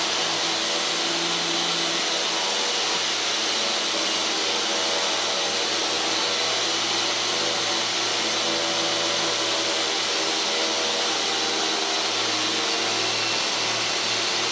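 A steady, loud mechanical whine from a 4-inch angle grinder with an abrasive rust-removal wheel spinning continuously, a harsh broadband roar with a high-pitched hum, running without pause and no voices.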